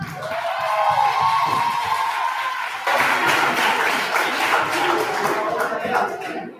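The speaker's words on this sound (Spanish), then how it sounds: "Un aplauso." Audience clapping at a Franciscan Christmas carol festival, with a voice speaking over the start before the applause swells to fill the hall and continue steadily.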